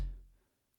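A single deep, punchy hard kick drum thump from a stomp box pedal hits at once and decays quickly into silence.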